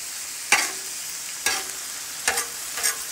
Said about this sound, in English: you could do your ground beef first, and then you throw your squash in